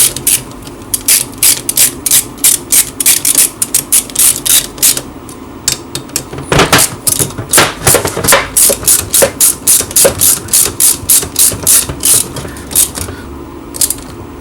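Hand wrench tightening the cylinder head bolts on a Mustang 125 motorcycle, heard as a long run of quick, close rasping ratchet clicks in steady bursts, with a brief pause partway through and no talking.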